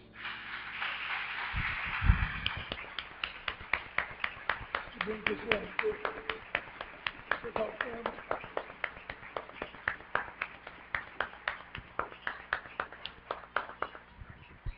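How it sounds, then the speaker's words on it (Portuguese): A church congregation applauds after a service, a steady run of sharp claps spread across the room, with a voice speaking briefly over the start. "Você podia aplaudir Jesus?"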